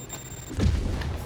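Rocket launcher fire in Marvel's Spider-Man, with one deep booming blast building and then tailing off amid game background noise.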